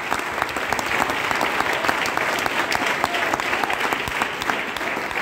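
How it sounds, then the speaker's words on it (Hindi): Loud, dense audience applause at a promotion event speech, continuous clapping from a crowd with no break. "दोस्तों से एक बार जोरदार ताली सर के लिए।"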